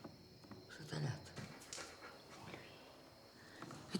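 A dog pants softly and gives faint whimpers close by in a quiet room. The sounds come in short uneven bursts over a low background hum, with a few light shuffling noises.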